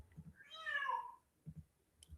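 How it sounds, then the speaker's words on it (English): A house cat meows for treats in one drawn-out, rising-and-falling call near the listener, with faint low thumps before and after and no talking. "he'll look at me and meow for treats"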